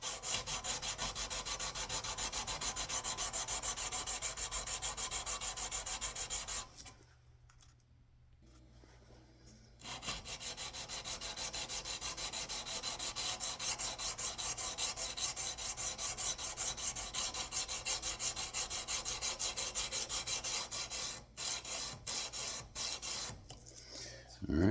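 A finish is dry-sanded by hand with no lubricant, giving a continuous gritty rasping rub with a fast back-and-forth texture. It pauses for a few quiet seconds, then resumes steadily and ends in a few short strokes.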